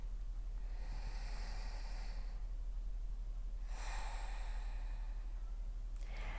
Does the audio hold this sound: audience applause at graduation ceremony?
no